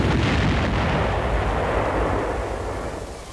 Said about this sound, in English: More firing is required because the rockets were fired too high.